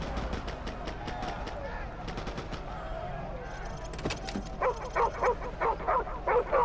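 Dog barking inside the shooter game Modern Warfare Remastered: a run of sharp, evenly spaced barks in the second half, loud and close over game sounds and a brief burst that follows some muffled earlier noise.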